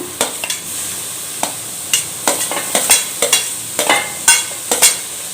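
Tomatoes hit browned frying masala for a prawn curry, a loud steady sizzle with repeated scraping and clacking of a spatula stirring in the pan, close and without talk.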